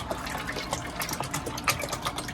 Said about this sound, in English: we're going to pour out the whole container of the heavy whipping cream